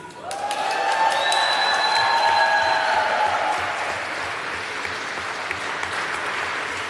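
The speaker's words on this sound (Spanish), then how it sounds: "recibámoslos de pie con un aplauso a nuestros héroes" An audience at a human rights forum stands and applauds arriving guests, a loud sustained burst of clapping with a few whistles early on, peaking then easing off but continuing to the end.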